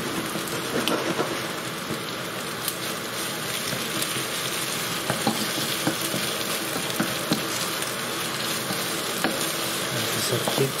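Chicken madras, restaurant style, sizzles loudly in a pan, a dense steady frying hiss broken by the scrape and clatter of repeated stirring, with no voices.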